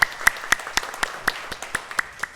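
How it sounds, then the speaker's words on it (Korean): A church congregation claps together in a steady, even rhythm, with about ten crisp, evenly spaced claps in quick succession. "우리 하나님께 한번 다시 한번 박수 영광을 드리겠습니다"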